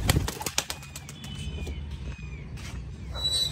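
Pigeons take flight in a flurry of wing flaps and short rustling bursts at the start, followed by faint bird chirps and ambient outdoor noise, with a few scattered flutters later.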